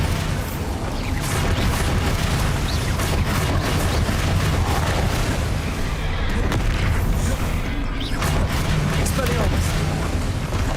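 Bombarda spell explosions in the video game Hogwarts Legacy roar as a dense, continuous barrage of heavy booms and rumbling blasts, loud and close throughout.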